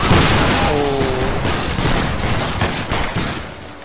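A musket volley fires in the video game Battle Grounds III during a linebattle, a loud ragged burst of many shots together followed by a fading crackle of stragglers and echo, with a voice briefly audible.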